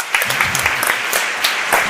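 Audience applause at a national patients' meeting in Spain fills the hall, a steady dense clatter of many hands lasting throughout with small swells.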